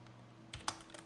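A few quick keystrokes sound on a computer keyboard, sharp close clicks in an irregular short burst.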